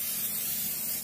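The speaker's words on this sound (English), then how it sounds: "We have our vegetable oil, our cooking spray stuff, and we're just gonna spray it on here." Vegetable oil cooking spray misted onto a waffle maker's plates: one short, steady aerosol hiss, close and fairly soft, with no talking.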